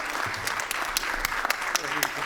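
Audience at an awards ceremony for a school book award cheers and applauds, a dense steady wash of clapping and shouts throughout, with a voice speaking over it.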